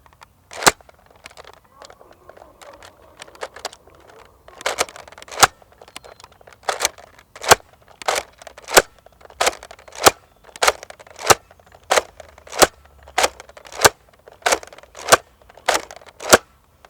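A Nerf Modulus Tri-Strike blaster firing 10 darts one after another, a run of sharp snapping pops at a steady, roughly one-per-second pace, with a few quieter clicks before the shots.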